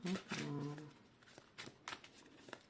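A short spoken phrase, then several soft, quick snaps and slides of tarot cards being handled and pulled from a deck, close by.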